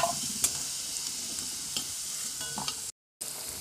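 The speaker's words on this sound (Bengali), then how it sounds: "দেখো বিনস আর গাজর ভাজা হয়ে গেছে" Beans and carrots fry in a pan with a soft, steady sizzle, broken by a few scraping stirs and a brief cut near the end, close and quiet with no talking.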